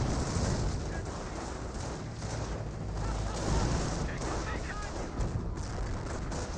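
Mortar and artillery fire in a Company of Heroes 1 match: muffled distant blasts and gunfire crackle steadily in the background beneath a commentator's continuous talking.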